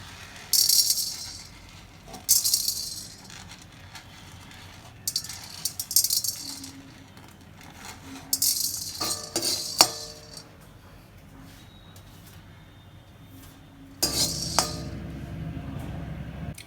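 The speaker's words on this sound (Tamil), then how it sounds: "அடுத்து மிளகு போட்டு வறுத்துருவோம்" Black peppercorns dry roasting in a pan for spice powder, small hard grains rattling and clinking in bursts as they are tossed, with quieter gaps between.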